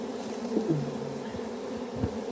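A swarm of honey bees buzzes around a beekeeper during a wild swarm catch, a steady close droning hum with individual bees passing nearby.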